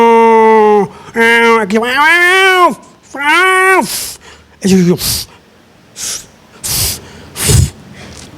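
A voice mimics a male cat answering a female with a run of short, rising and falling meows, followed by breathy hisses and snorts; a brief spoken word slips in near the start.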